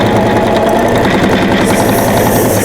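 Steady mechanical whirring of a longarm quilting sewing machine stitching face mask pleats with back tacking, loud and continuous with a dense even buzz throughout.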